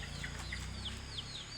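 Chickens cluck softly in short, rising calls over a low hum, several birds close by.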